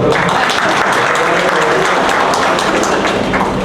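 Applause at a political party workers' meeting, a loud, dense and continuous burst of clapping from a large crowd that holds steady from start to finish.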